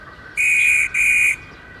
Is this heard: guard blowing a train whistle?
yes